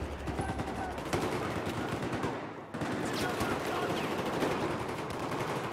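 Automatic and rapid gunfire from a Battlefield 4 multiplayer match, dense continuous bursts of shots layered over battle noise, loud and sustained throughout with a brief dip midway.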